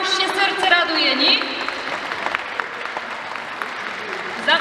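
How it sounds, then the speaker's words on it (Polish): An audience applauds a children's regional folk ensemble, a steady wash of clapping with voices heard over it near the start. "jeszcze raz gromkie brawa dla nich"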